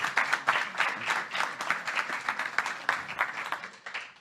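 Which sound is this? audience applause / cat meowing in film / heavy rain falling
audience applause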